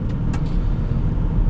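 A quiet LPG-powered car cruising in fourth gear, its low, steady engine and road rumble continuous and even throughout, with no voices.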